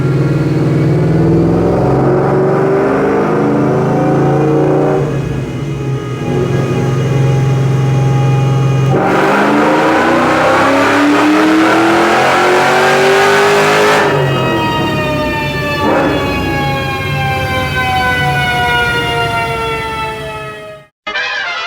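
Supercharged Ford Cobra engine on a dyno, loud and close, climbing through long rising revs with supercharger whine before cutting off sharply at the end.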